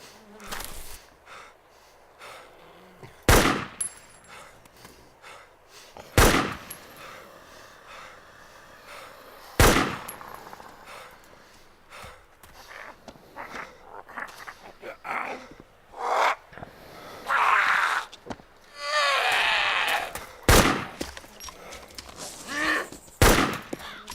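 Sniper rifle fire in the video game Arma 2 DayZ Mod, several loud, sharp single shots spaced seconds apart, with quieter ambient game noise and breathy sounds between them.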